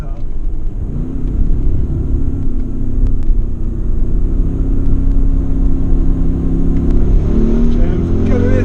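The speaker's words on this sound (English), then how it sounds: "but we get some V8 rumble" Audi V8 engine at Goodwood giving a deep, steady rumble with a rising, throaty note, heard up close from inside the car with a few faint clicks over it.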